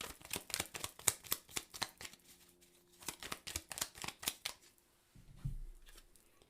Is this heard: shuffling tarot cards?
yes